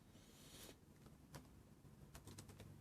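Clicks of typing on a computer keyboard during a Windows installation setup, a few scattered keystrokes and a short burst of quick taps, near and fairly quiet with no talk.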